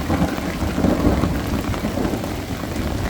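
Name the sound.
thunderstorm with rain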